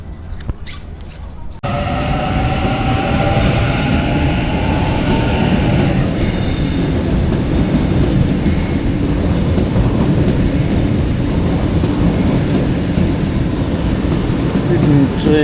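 A Sydney train rolls into a station with a sudden loud onset, then a long steady rumble with squealing wheels and metallic clatter, under a platform announcement and nearby talk.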